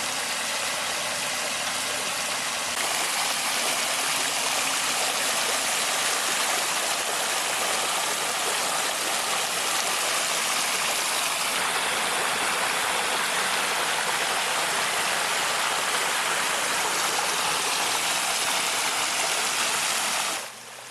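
A large rain curtain water feature sends a sheet of water into a pool below, giving a steady, bright splashing rush. The flow is set low for a softer, more natural fall and runs continuously, close up with no voices, before cutting off at the end.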